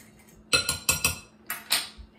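Metal spoon clinking against a bowl while stirring beef stock into cheeseburger pie filling, a quick run of four sharp scraping clinks followed by two more, close and alone without speech.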